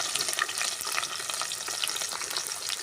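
Onion and green chili sautéing in hot oil, a dense, even crackling sizzle with fine popping, close and moderately quiet, no talking.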